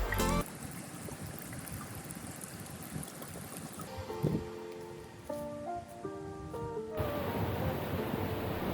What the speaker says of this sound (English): This gurgling of the river is absolutely soothing.